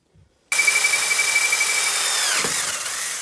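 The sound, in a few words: drilling a hole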